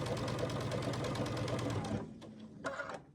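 A sewing machine stitching a long seam on a quilt block: a fast, steady mechanical whir of needle strokes for two seconds, then it stops, followed by a few soft clicks and handling sounds.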